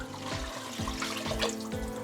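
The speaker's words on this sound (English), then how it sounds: "So we just want to add enough water to cover." Water poured into a soup pot holding ham and beans, a continuous splashing gush with repeated low gulping surges as the level rises, close and steady with no talk.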